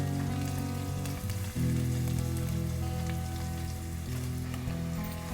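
Onions fry in a pan with chillies and curry leaves, a steady, fairly close sizzle and crackle like light rain that runs on without a break and with no voices.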